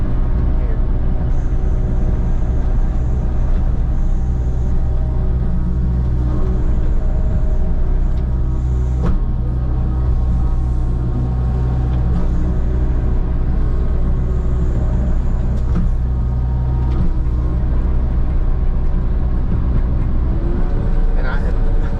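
Kubota 57 VMC diesel engine on an EXG42 brush cutter runs loud and steady at part throttle, a deep droning rumble with a constant hum, while a person talks over it throughout.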